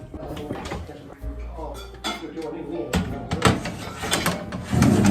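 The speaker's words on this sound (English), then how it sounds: "Let's put them in the oven." A tray of Swedish cinnamon buns goes into a home oven, with clanks of the metal tray and the oven door, close and fairly loud. Someone talks briefly over the clatter.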